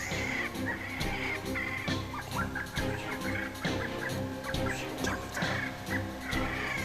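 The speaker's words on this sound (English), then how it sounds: "We turned on the woodpecker distress on the GC500." Repetitive squawking woodpecker distress cries played loudly and continuously from a GC500 electronic predator caller while coyote hunting, harsh clucking calls repeating over an electronic-sounding backdrop.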